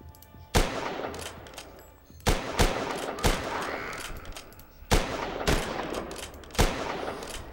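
Gunshots ring out in The Last Stand: Union City, a zombie shooter, as loud, sharp single and paired cracks spaced a second or more apart, each trailing a brief echoing tail, with no talk.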